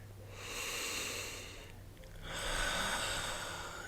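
A deep inhale during a guided breathing exercise, heard as a soft, airy rush that swells, eases briefly, then rises again, close and steady with no talking.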